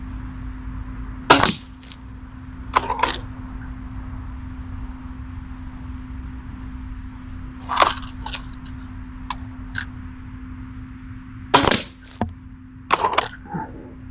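A Millbro M16 break-barrel air rifle fires several times, each shot a sharp crack with a brief tail, spaced irregularly over a steady low hum and faint background.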